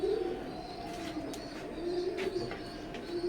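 An imported Teddy pigeon, a breeding bird, coos in low repeated soft calls, close and fairly clear, with faint chirps from other pigeons around it and no speech.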